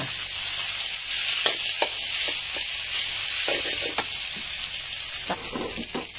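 Chopped ingredients fry in a pan with a loud steady sizzle, broken by repeated clicks and scrapes from stirring, close up with no talking.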